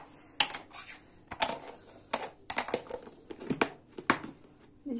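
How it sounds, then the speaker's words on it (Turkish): Salt scattered by teaspoon into pizza dough ingredients in a home kitchen, giving a series of sharp, close clicks and taps in irregular bursts with brief crinkly scraping, no talking. "Bakın arkadaşlar şöyle tuz atıyorum, çay kaşığıma şöyle 2 kaşık atacağım."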